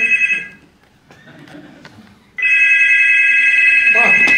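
An old telephone bell ringing in a hotel scene, a loud sustained metallic ring that stops, leaves a quiet stretch of faint clatter, then resumes steadily and close.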